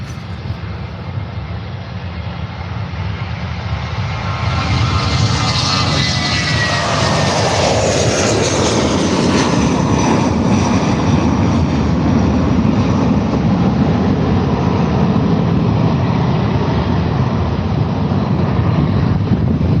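Jet airliner taking off from Faro airport, a loud, steady roar building over the first few seconds and then holding strong, with a high whine sweeping across the rumble as it passes near.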